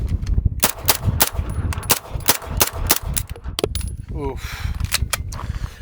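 Rapid bursts of 9mm submachine gun fire through a small suppressor, dense sharp cracks in quick strings with metallic clinks of ejected brass, and a short vocal exclamation between bursts.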